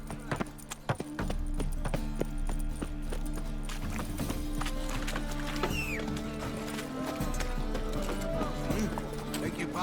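Hooves of the horse Roach gallop in a steady clip-clop rhythm through a Witcher 3 game scene, with an occasional whinny, music and spoken dialogue running beneath throughout.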